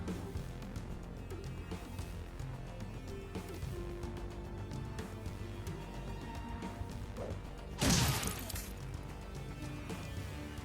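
Grenade explosion in an online shooter video game, a single sharp loud blast standing out from a busy background of game sounds and gunfire.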